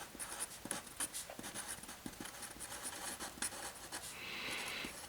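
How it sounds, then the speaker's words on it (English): A pencil writes on paper during a geometry lesson, giving soft, continuous scratching with short strokes and taps, close and quiet, with no voices. "So let me just write that."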